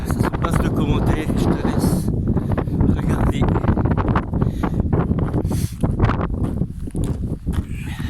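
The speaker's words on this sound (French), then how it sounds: "il y a aussi beaucoup de vent" Strong wind buffets the microphone at Beliche beach near Cape Saint Vincent, a loud, continuous, gusty roar with rumbling bursts and a voice speaking under it.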